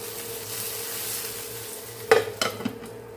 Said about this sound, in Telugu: పచ్చిమిర్చి యాడ్ చేసిన వెంటనే ప్యాన్ లో మూత పెట్టేసుకొని మీడియం ఫ్లేమ్ లో పెట్టి వేయించుకోవాలి